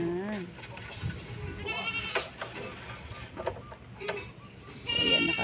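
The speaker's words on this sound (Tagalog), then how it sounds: "Andun sa likod ng kubi mga kambing." Goats bleat repeatedly from behind a hut on a rural farm plot, the wavering cries rising and falling over several seconds amid outdoor background noise and faint voices.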